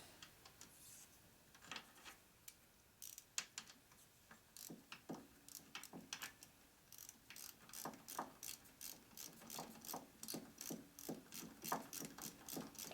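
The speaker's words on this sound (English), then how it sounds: "It might be high enough I can get my ratchet in here now." A ratchet clicks on a socket during the engine rebuild of a 2001 Gilroy Indian motorcycle: quiet, close, dry clicks in irregular bursts that settle into a steady back-and-forth rhythm, with no talking.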